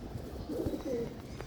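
A silver male pigeon gives a short, soft, low coo, brief and faint against a quiet room background.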